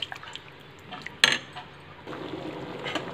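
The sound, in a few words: stirring rice in a cooking pot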